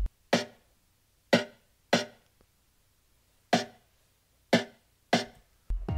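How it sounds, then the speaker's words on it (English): Stacked snare drum samples from a produced track, six sharp, layered snare hits, loud and crisp with short decays, spaced unevenly between silences. "They're literally just a bunch of snares stacked on top of one another"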